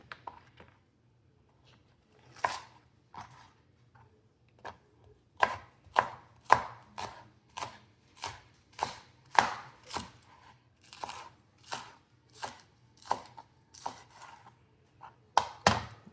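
Steady knife chops on a cutting board while green onions are cut for Filipino pork belly fried rice, crisp evenly spaced strikes, close and clear, a few sparse taps first and then a regular rhythm.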